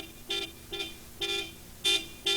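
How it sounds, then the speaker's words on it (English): Five short car horn honks in an irregular rhythm, each a bright blaring toot, heard alone at moderate distance against a quiet background, in a 1991 home safety scenario of honking from a car blocked in a driveway. "stay in the car and honk the horn"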